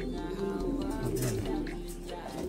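Pigeons cooing close by in a Taiwan bird loft, a low steady murmur of soft repeated coos with faint rustling and no talk.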